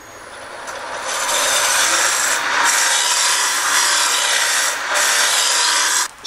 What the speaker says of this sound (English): This is me peeling with a skew